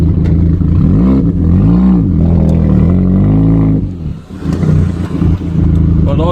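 Turbocharged 1.8T VW Jetta MK4 with GT28 turbo and side pipes accelerating hard in low gear, a loud close engine with rising revving sweeps, a brief dip around four seconds, then pulling again.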